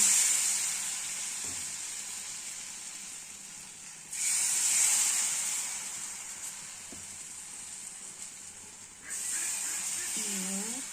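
Ingredients sizzle in a little hot oil in a pan, a steady loud hiss with two sharp surges as more food goes in, plus a few faint clinks. No one speaks.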